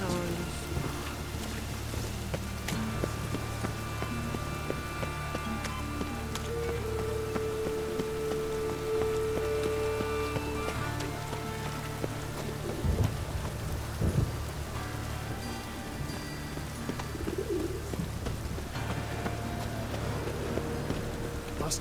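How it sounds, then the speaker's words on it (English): Steady rain falls in The Witcher 3: Wild Hunt, a constant hiss with a low rumble of thunder beneath, heard under occasional talk and game sounds. "It's raining again."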